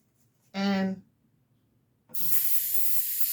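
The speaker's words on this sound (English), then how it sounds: "Just take a little bit of Scotch adhesive spray" Scotch adhesive spray is sprayed from a can during a jewelry box craft project, a loud, bright hiss that starts abruptly and holds steady. A person speaks briefly before the spray begins.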